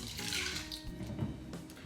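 Water pours from a tap into a bowl of lentils set to soak for sprouting, making a brief, soft, continuous splashing gurgle indoors.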